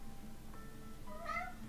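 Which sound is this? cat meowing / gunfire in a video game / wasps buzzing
cat meowing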